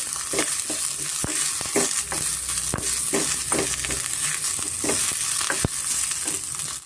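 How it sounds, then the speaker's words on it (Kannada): Coriander and mint fry in oil for a midday lentil sambar, a constant bright sizzle broken by repeated sharp scraping stirs of a spoon in the pan, close and steady. "ಕೊತ್ತಂಬರಿ ಮತ್ತು ಪುದೀನ ಚೆನ್ನಾಗಿ ಎಣ್ಣೆನಲ್ಲಿ ಫ್ರೈ ಆಗಿದೆ"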